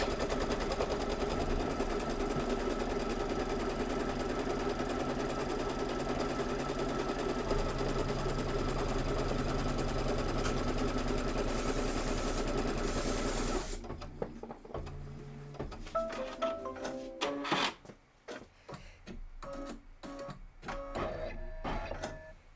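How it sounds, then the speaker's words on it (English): A sewing machine runs steadily and loudly for about fourteen seconds, stitching quilt fabric and batting together, then stops, leaving quieter handling and clicking sounds. "and stitch, and what it's doing is placement for my batting"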